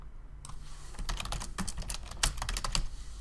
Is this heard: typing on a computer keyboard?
yes